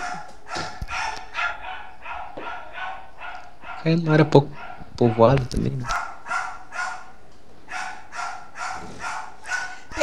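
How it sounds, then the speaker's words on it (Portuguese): A female dog barks repeatedly indoors in quick, sharp bursts close by, while people talk over part of the barking. "A minha cachorra não para de latir."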